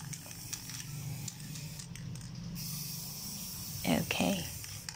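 Spray paint hissing from an aerosol can onto an old ten-year-old electric fan being restored against rust, a steady close hiss with a brief louder burst near the end.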